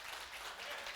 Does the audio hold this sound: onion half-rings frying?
no